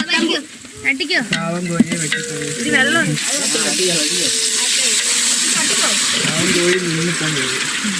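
Chicken for peri peri mandhi sizzles loudly in a hot masala-coated pan, a continuous hiss with stirring scrapes, while a voice speaks over it for much of the time.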